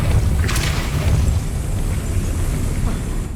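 A Depulso spell blast in the video game Hogwarts Legacy, a loud low booming burst that rumbles on for a few seconds with a brief sharp crack near the start.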